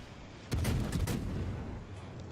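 Naval artillery salvos from warship guns in World of Warships, a cluster of loud booming shots firing in quick succession and then trailing off into a rumbling echo, with no talking.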